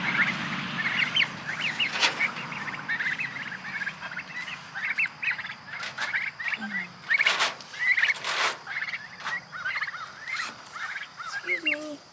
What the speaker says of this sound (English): check out these baby turkeys that are growing quite nicely